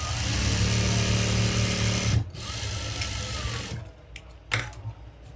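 A sewing machine top-stitches a chudi pant pocket with a fast, steady mechanical whir for about two seconds, then stops, followed by quieter handling and fabric rustles.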